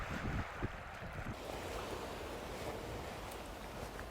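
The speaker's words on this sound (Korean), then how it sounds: "바람이 세차고 파도가 유난히 거칠어 가파도라 불린 섬" Strong wind and rough surf on a beach on Gapado island, a steady broad roar of wind and breaking waves with no speech.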